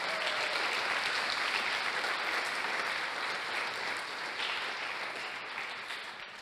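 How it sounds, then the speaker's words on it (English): An audience applauds after a student project presentation, steady and continuous clapping from a room full of people that slowly fades toward the end. "let's give the people from Eisenfuehr Speiser a grand applause"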